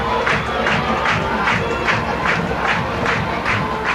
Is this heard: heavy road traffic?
no